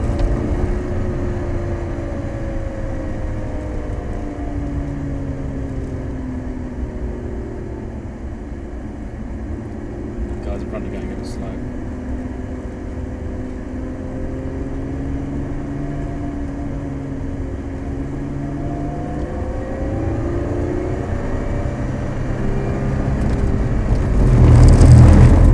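A Lotus Evora 400 sports car rounds a track corner at moderate speed with traction control on, its engine a steady droning hum with shifting tones, swelling louder near the end; no talk.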